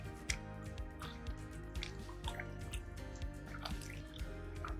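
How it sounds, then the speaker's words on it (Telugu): Squeezed tamarind extract is poured into a bowl for Telangana-style fish curry, giving soft, close drips and splashes of liquid over a faint steady background hum. "చింతపండు పులుసు పీసికి పోసేసుకోవాలి."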